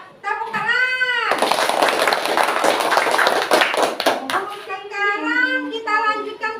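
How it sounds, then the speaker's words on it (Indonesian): Children in a classroom religious education lesson clap together in a loud burst of about three seconds, with a voice speaking just before and after the applause. "Tepuk tangan."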